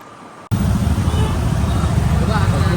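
Road traffic crawls through Khopoli during a congested stretch, a loud close rumble of engines and tyres with a steady low drone and some murmuring voices mixed in.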